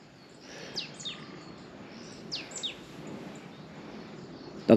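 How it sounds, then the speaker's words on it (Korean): Outdoors, a handful of short, high, sweeping bird calls come in small clusters over a soft background hiss, fairly distant and without any talking. "이 새소리 같은데."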